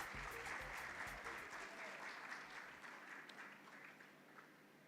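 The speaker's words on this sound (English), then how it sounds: "Can we give them a big round of applause?" An audience at a Kenyan motorsport championship awards event gives the KCB Bank team, WRC Safari Rally sponsors, a sustained round of applause, dense and steady, easing off slightly toward the end.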